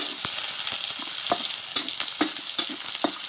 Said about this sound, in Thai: ผักน้ำสุกง่ายแล้วนะ เราก็ผัดแค่แป๊บเดียวพอ